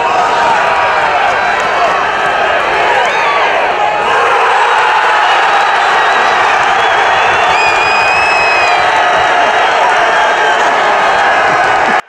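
Hockey fans of Trubnik in Pervouralsk roar after the winning goal in the 20th minute of overtime, a loud, sustained crowd cheer with whoops and clapping that holds steady throughout, with occasional whistles cutting through.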